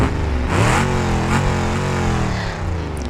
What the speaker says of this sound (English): take a listen to this car